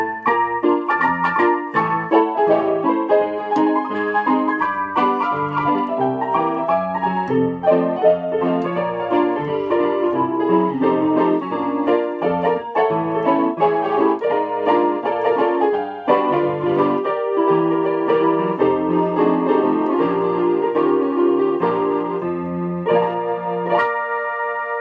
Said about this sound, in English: and also now you have the honky-tonk piano voice.